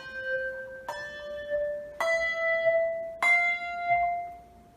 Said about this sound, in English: where as one bell goes down, the other bell is rung?